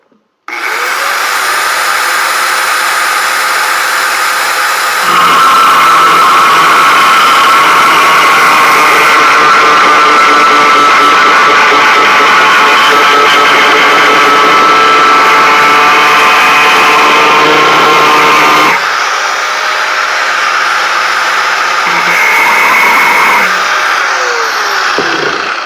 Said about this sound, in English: Let's just start grinding.